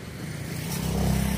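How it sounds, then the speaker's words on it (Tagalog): A motor tricycle passes close by on a street in Kalapi, Bohol, its engine growing louder and steadier over the clip as it draws near. "Ibang klase mga tricycle nila rito."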